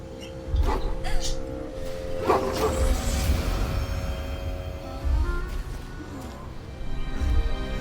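A dog in Baldur's Gate 3 makes low, rough yapping and growling sounds in several short bursts across a steady game soundtrack, with no talking.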